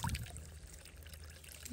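Water pours and trickles into a sink on a rural property, a soft continuous wash with a slightly stronger splash at the start, faint and fairly close.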